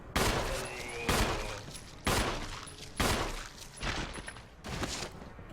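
Gunfire in the Resident Evil HD video game: several loud bursts of shots arrive in quick succession, each striking hard and then trailing off, roughly one per second, close and dominant with no talk over them.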